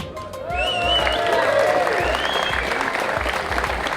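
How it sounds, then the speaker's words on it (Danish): An audience at an MMA event in Denmark breaks into steady applause, a dense sustained burst of clapping from a sizeable crowd, with an announcer's amplified voice over it. "jeg håber, at I vil give mig klap undervejs"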